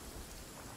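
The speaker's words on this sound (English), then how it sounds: "Taking a stroll in the middle of a downpour certainly rouses the spirit." Heavy rain hisses steadily, with a low thunder rumble underneath, in the fantasy game Genshin Impact. The sound is faint, brief and continuous, and no one speaks.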